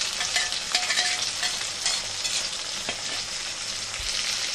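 Onions and tomatoes frying in a pan for tomato upma, a steady close sizzle with a constant hiss and occasional stirring scrapes throughout, no voices.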